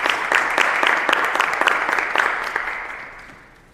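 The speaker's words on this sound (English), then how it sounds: "Let's give them a round of applause." Audience applause at a Mu Alpha Theta honor society induction ceremony in Oyster Bay: a dense burst of many hands clapping that holds steady, then fades out over the last second.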